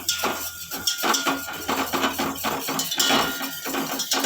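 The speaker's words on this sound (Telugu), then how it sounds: "అర లీటర్ పెరుగు ఇలా బీట్ చేయాలి" Half a litre of curd being beaten in a bowl by hand, giving a steady run of quick, close, clattering taps and scrapes that go on throughout with no talk.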